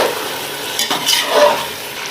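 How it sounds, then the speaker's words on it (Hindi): Chicken pieces with garlic frying in a pot, a steady close sizzle with stirring scrapes and a brief metallic clink of a spoon against the pan. "अब इसे फ्राई करेंगे हम इसके अंदर"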